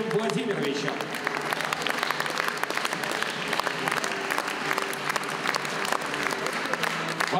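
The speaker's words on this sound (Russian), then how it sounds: "Ваши аплодисменты этой замечательной семье." Sustained audience applause for a family receiving an award at a women-of-the-year ceremony in Kazan, a dense even clatter of many hands with voices faintly underneath.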